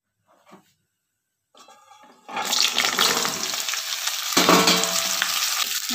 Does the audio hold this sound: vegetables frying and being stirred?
yes